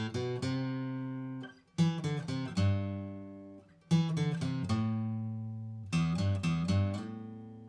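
Guitar playing an interlude riff: four bars of clear picked arpeggiated notes over ringing bass strings, each phrase starting sharply and decaying, loud and alone.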